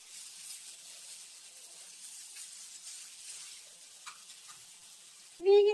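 Coconut fries in a pan for mango pulihora, giving a soft, steady hiss and sizzle up close, then a sudden louder clatter right at the end.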